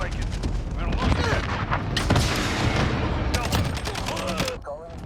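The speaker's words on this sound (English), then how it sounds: "Precision airstrike." Battlefield precision airstrike, with dense booming explosions and heavy gunfire rolling on almost without a break, loud and continuous, with a little talk mixed in.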